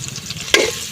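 Sliced onions frying in oil as salt goes in, a soft background sizzle broken by a sudden louder burst of stirring and crackling near the end, close and clear with no voices.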